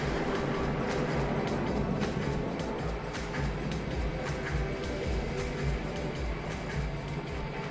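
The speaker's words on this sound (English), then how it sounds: "It's a simple train. It's like a child's train." A simple child's train ride rumbles along in the video game Planet Coaster 2, giving a steady dense clatter and rumble that carries on without a break.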